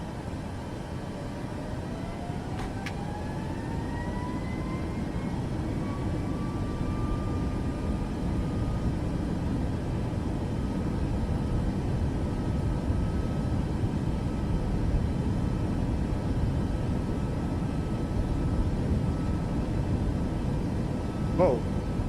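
A steady, broad engine roar from a plane taking off in Last Chance Charter Service holds evenly for the whole stretch, with faint rising tonal whines early on and a brief click near the end.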